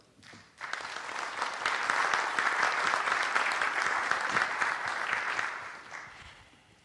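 Strong applause greets Honduran Armed Forces brigadier general Gustavo Adolfo Paz Escalante as he takes the stage, a dense wash of many hands clapping that swells quickly, holds steady for several seconds, then begins to fade.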